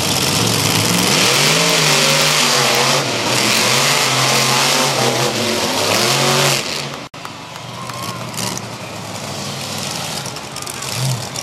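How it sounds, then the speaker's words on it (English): Race car engines rev loudly at a fairgrounds racing competition in Miami, Oklahoma, with sustained rising and falling engine tones for about seven seconds, then a rougher, busier blend of motor noise and crowd sound. "we just saw a great racing competition out here at the Miami Fairgrounds"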